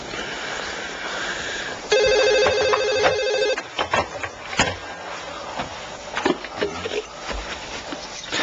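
A telephone rings in a bright repeating electronic trill for about two seconds, loud and close, followed by scattered knocks and handling sounds.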